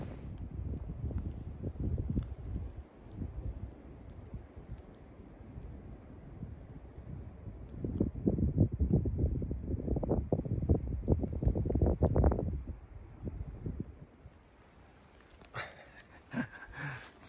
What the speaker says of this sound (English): It's nice out. It's still windy.